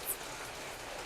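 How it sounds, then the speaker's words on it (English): Steady rain falls in Krabi, Thailand, a soft, even hiss of drops on surfaces that holds at a constant level from start to finish, with no voices over it. "You might be thinking, guys, it's raining."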